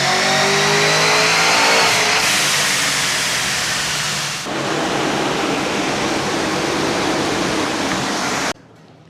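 Holden VE SS with CNC heads and a TK camshaft revving hard on a dyno, a loud sustained roar climbing through the revs with a gear change midway before cutting off abruptly near the end.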